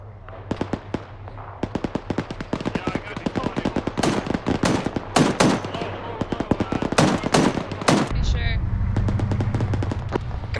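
Heavy machine gun fire in an Arma 3 desert battle, with a Dishka among the weapons: rapid bursts of loud, sharp cracks repeat for about eight seconds, then give way to a lower rumble, with radio chatter underneath.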